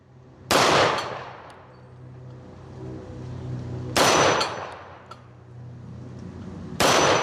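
Three loud, sharp shots from an S&W M&P 10mm Carry Comp pistol firing 180 grain range ammunition, spaced several seconds apart, each with a ringing echo that trails off across an outdoor range.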